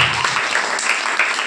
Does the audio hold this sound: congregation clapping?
yes